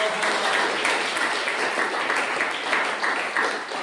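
A church congregation claps their hands together, a continuous dense patter of applause at moderate volume lasting the whole stretch.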